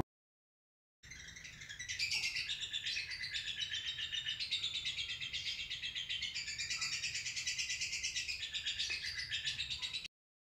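A lovebird chirps continuously in rapid, high, trilling bursts that start after a second of silence and carry on steadily to the end, close and fairly loud with no talk.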